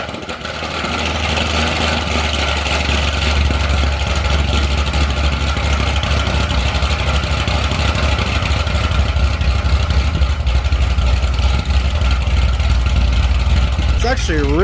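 A Corvette fitted with new mufflers starts and settles into a deep, steady idle, loud and close, with a person talking over the rumble.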